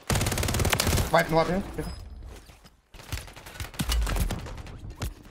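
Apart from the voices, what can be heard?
gunfire from all sides in video game Call of Duty Warzone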